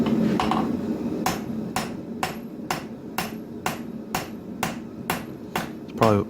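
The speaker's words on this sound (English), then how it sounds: "So the straight peen really helps move a lot of material." Steady, evenly spaced ringing blows of a straight peen hammer on hot steel, forging a full tang knife, about ten strikes at a brisk rhythm over a constant background hum, close and sharp.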